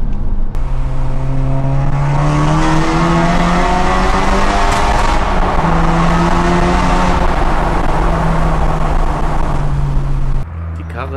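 A Skoda Octavia VRS tuned to 500 hp accelerates hard, its engine note climbing through several gears in repeated rising sweeps, loud and close, with a brief drop at the end.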